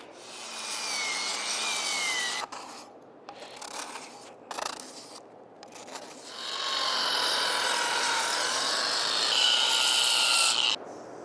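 Sanding a walnut wooden toilet by hand or power sander, a steady close rasping rub broken by a few brief pauses, growing louder and brighter in the second half, with no talk.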